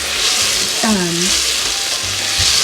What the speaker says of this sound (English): saute these until they're translucent